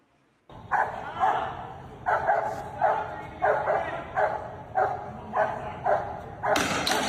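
A dog barks in a steady series of about ten sharp, evenly spaced woofs close by, with a thump near the end and no clear talk.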